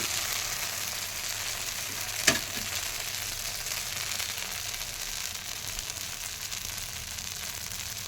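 A snack fries in ghee with a steady, even sizzle throughout, broken by one brief sharp crackle early on; no voices are heard.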